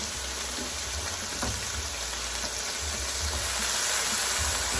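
Steak sears in a hot pan for steak pizzaiola, making a loud, continuous close-up sizzle and hiss with a few faint bumps. It runs alone, without any talking.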